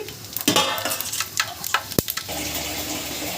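Whole pulao spices fry in oil for mutton biryani, a sizzling hiss broken by several sharp stirring scrapes and clinks, including one loud knock near the middle.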